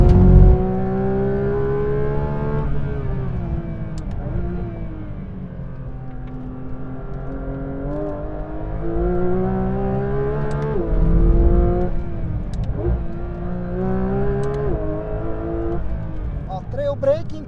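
A Porsche 911 GT3 RS of the 992 generation accelerates on a racetrack, its engine note climbing steadily in pitch through a loud, sustained wail heard from inside the car, with someone talking over it.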